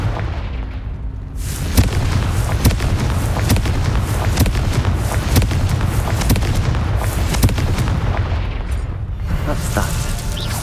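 Confringo explosive spell in the Hogwarts Legacy video game: a sustained barrage of loud booming blasts and sharp cracking impacts, dense and continuous for several seconds before easing off near the end.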